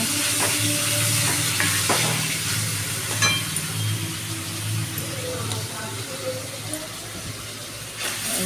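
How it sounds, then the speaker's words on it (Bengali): Paneer masala is stirred in a frying pan, with soft sizzling and intermittent scrapes and clinks of the spatula, while a voice talks over the cooking. "নাড়ানাড়ি করে দিচ্ছি।"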